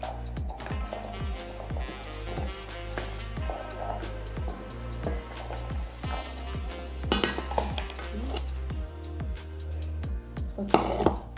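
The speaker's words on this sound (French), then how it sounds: "je vais les réchauffer dans une casserole dans laquelle il y a un peu d'eau" Beans warming in a saucepan with a little water, with repeated metallic clinks and knocks of a spoon against the pot over a low hum, close by and fairly busy, with no talking.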